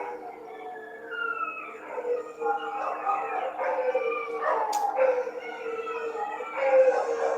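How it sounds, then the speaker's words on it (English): A dog howls and yips in the background, rising and falling in drawn-out wavering cries across the whole stretch, fairly faint and steady, with no speech over it. "I have the dog barking"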